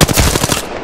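Rapid video game gunfire, a loud, close burst of automatic shots firing in quick succession for under a second, with no talking.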